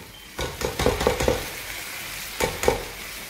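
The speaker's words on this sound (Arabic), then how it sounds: "هذا عندي باقلة حمست عندي هي والبصل، وهسه نضيف الشبنت" Broad beans and onion sizzle and fry in a pan while being stirred, with dill being added; a few bursts of scraping stirring come close and loud over a steady frying hiss.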